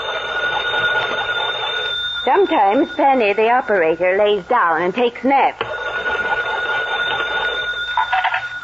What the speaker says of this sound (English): I turn this little crank here.